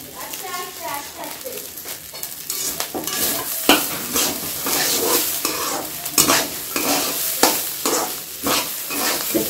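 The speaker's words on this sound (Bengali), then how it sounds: "চাল একবারে ঝরঝরে ভাজা হয়ে গেছে" Rice being stirred and fried in a pan, a steady close sizzle broken by repeated scraping strokes of the spoon, with faint voices in the background.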